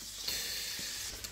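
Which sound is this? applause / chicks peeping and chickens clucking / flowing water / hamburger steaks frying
hamburger steaks frying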